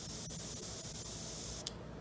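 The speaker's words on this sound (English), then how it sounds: "when I depress the trigger for the airbrush" Steady airbrush airflow from a line fed by a tank compressor through a regulator set near 20 psi, a continuous close hiss that cuts off sharply with a brief click at the end.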